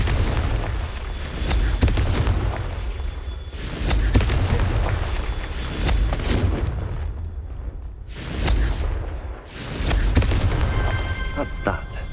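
Repeated Confringo blasting spells in Hogwarts Legacy set off deep booming explosions, several heavy rumbling blasts rolling over a loud game soundscape.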